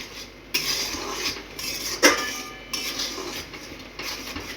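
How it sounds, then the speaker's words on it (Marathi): Raw mango and jaggery jam being stirred in a metal pot, with loud, close spoon scrapes and clanks against the pot's sides in an irregular rhythm and a faint bubbling underneath, no talk. "याला आता असंच हलवत हलवत घट्ट होईपर्यंत छान शिजवून घ्यायचं"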